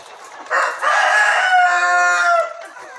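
A village rooster kept on a free-range chicken farm crows once, loud and close, in a single long drawn-out call lasting about two seconds with nothing else in the background.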